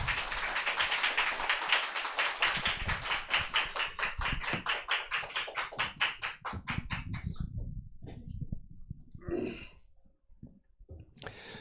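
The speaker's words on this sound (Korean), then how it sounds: "나오실 때 박수해 주시고" Church congregation claps in a steady, rhythmic beat for roughly seven seconds, then the clapping stops and a few quieter sounds follow in a hushed room.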